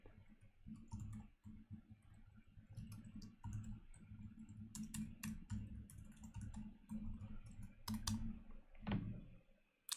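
Steady, close typing on a computer keyboard, with quick clustered key clicks and occasional sharper taps, no voices.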